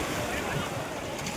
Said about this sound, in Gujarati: મોજા બહુ આવે છે